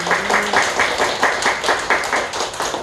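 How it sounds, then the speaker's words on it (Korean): A church congregation at a Sunday service applauds in a steady, fairly loud round of clapping that holds at an even pulse for the whole stretch. "박수로 영광 올려드립니다."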